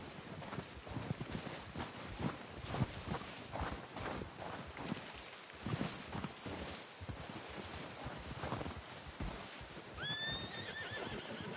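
A horse's hooves clop and shuffle close by for several seconds, with rustling around it, before a loud whinny rings out near the end.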